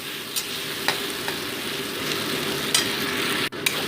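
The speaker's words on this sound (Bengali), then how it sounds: "দিয়ে মোটামুটি এটাকে 2 মিনিট আমি ভেজে নিচ্ছি।" A masala paste of ginger, garlic, chili, cumin and coriander fries in a pan with a steady, fairly quiet sizzle, broken by a few light stirring clicks and scrapes.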